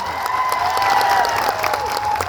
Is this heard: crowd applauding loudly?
yes